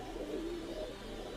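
Teddy pigeons about two years old coo in a low, steady, continuous murmur, soft and close, with a dense background hum and no voices.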